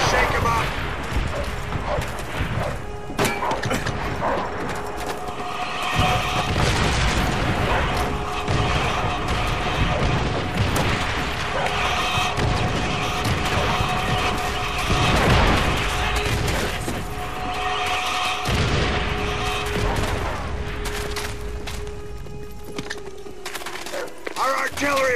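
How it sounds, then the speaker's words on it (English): Artillery strike explosions and battle noise in Call of Duty World at War, Team Deathmatch on the Hanger map, a dense continuous roar of blasts and crashes with voices mixed into the din. "Our artillery will shake him up."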